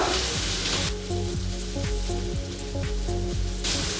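A spiced pilaf base frying in a pan with hot red pepper, stirred through, giving a steady close sizzle with scraping strokes throughout and no talking.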